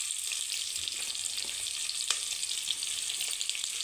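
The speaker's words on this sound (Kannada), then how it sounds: "ಒಂದು ಈರುಳ್ಳಿ ಉದ್ದಕ್ಕೆ ಹಚ್ಕೊಂಡು ಸೇರಿಸ್ಕೊಳ್ಳಿ. ಇದು ಸ್ವಲ್ಪ ಬಣ್ಣ ಚೇಂಜ್ ಆಗೋವರೆಗೂ ಸ್ವಲ್ಪ ಫ್ರೈ ಮಾಡ್ಕೊಳ್ಳಿ." Sliced onion sizzles in a hot pan for fenugreek leaf pulao, a steady bright frying hiss throughout with a few small pops and stirring scrapes, close and alone with no talk.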